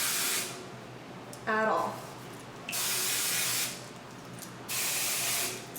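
Dry shampoo sprayed onto hair from an aerosol can in three loud, sustained hissing bursts separated by short pauses, with someone speaking briefly between sprays.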